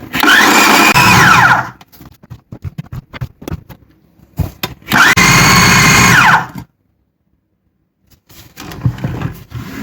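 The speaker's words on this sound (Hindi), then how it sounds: "तो हम चॉपर में इन सब चीज़ों को पीस लेते हैं।" An electric chopper grinds chana dal, meat and bread pieces in two loud whirring bursts, with clattering and knocking between them as the bowl is handled, then a pause before rattling resumes.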